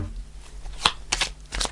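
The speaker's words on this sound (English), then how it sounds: "I'm just going to pull three cards" Tarot cards shuffled and pulled during a reading, a quiet papery riffle with a sharp snap near the middle, followed by brisk slapping bursts of cards being drawn, heard close with no talking.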